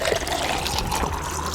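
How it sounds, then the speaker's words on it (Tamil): Water is poured steadily into a bowl of soaked sago and curd, a continuous close trickle and splash lasting the whole moment without speech. "அதுக்கப்புறம் நான் தண்ணி ஊற்றி நல்லா மிக்ஸ் பண்ணி வச்சுக்கிறேன்."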